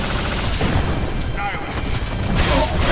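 Iron Man's proton cannon fires in Marvel vs Capcom Infinite as a sustained, dense roaring blast of rapid mechanical bursts and explosions, loud and continuous with faint high beeps.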